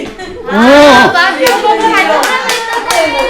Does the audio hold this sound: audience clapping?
yes